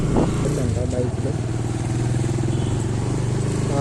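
Motorcycle engine running steadily on a forest ghat road toward Srisailam, a continuous close drone with a rhythmic low pulse and some clatter from the road.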